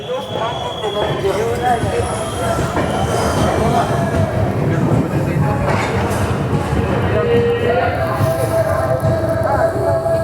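Visakhapatnam–Mumbai LTT SF Express train departing Igatpuri station, a continuous close rumble of rolling wagons with squealing wheels and metallic clatter, and voices talking underneath.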